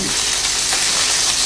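Bacon frying in a pool of rendered fat gives off a loud, dense, even hiss and spatter, close up and continuous with no pauses.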